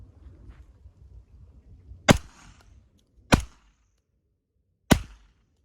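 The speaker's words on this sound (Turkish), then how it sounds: "Patlıyor ama" Three sharp, loud bangs from test-firing reloaded shotgun shells, sparsely spaced with pauses between them, over quiet background rumble.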